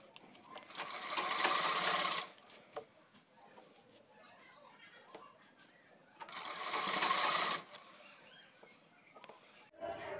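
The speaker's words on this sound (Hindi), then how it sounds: "कैसे मोड़ के सिल देंगे।" A sewing machine stitches a net blouse in two loud, rapid runs of whirring mechanical clatter, separated by quieter handling sounds and a brief murmur of voice.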